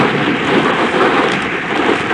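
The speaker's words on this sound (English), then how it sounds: "The storm also is damaging the roofs heavily." Heavy hurricane rain pours steadily in a dense, loud roar, with rumbling thunder blended into the storm wash and no voices.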